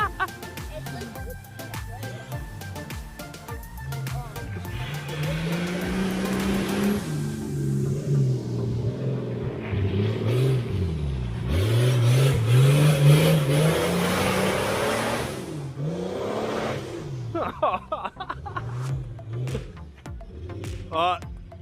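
A car engine revs hard and uneven, as if misfiring, rising and falling in loud surges close by. Later it sputters into choppy bursts, and voices are heard now and then.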